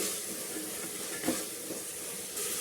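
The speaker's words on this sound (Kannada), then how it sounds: "ಹಸಿ ಅವರೆಕಾಳು ಇದನ್ನು ಸ್ವಲ್ಪ ಚೆನ್ನಾಗಿ ಫ್ರೈ ಮಾಡ್ಕೊಳ್ಳೋಣ" Fresh field beans (avarekalu) frying in a pan, a quiet, steady sizzle and hiss with a brief sharper crackle midway and a slight rise near the end, no voices.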